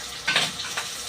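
Pork browning in a frying pan sizzles steadily at close range, with a couple of brief stirring scrapes over the hiss and no talking.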